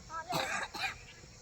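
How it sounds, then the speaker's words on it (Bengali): A child coughs on a cold winter evening after rain, two or three close, harsh bursts in quick succession with no talk. "কাশছো খুব?"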